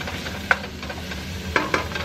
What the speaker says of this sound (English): Now we're going to add the carrots and broccoli. And we're just going to stir and fry until they soften.